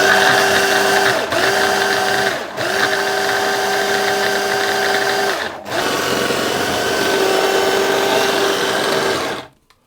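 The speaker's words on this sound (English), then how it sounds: "I'm going to process this until the egg yolks are combined into the flour" A food processor whirs loud and steady, blending egg yolks into flour for almond and apricot tart dough, its motor running in several long bursts with brief pauses before cutting off.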